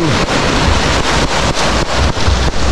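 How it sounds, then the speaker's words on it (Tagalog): Strong ocean waves break continuously against the shore at Infanta, Quezon, a loud, close wash of surf with heavy wind buffeting the microphone in regular gusts, and no voices. "Medyo malakas yung alon."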